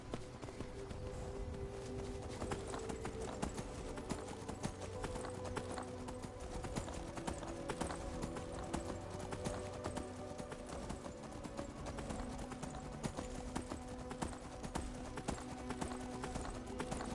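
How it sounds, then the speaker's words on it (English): Horse hooves clip-clop in Skyrim, a steady rapid run of hoofbeats heard fairly quietly under a dense game soundscape of low rumbling ambience. "Oh, I hear my horse battling."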